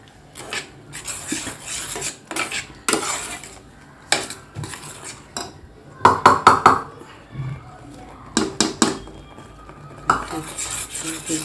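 Spoon stirring a coconut poli filling mixture in a metal bowl, with repeated clinking and scraping strokes in uneven bursts, fairly close and clear, with brief pauses between strokes.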